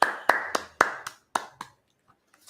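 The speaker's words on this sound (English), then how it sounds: "All right, clap that up." During a Sabbath service, people clap together in roughly eight loud, close claps at an uneven, slowing pace, with the sound thinning out into a few faint stray claps near the end.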